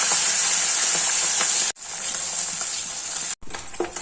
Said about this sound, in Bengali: তেল গরম হয়ে গেছে, এবার আমি মাছগুলো সব ছেড়ে দেবো।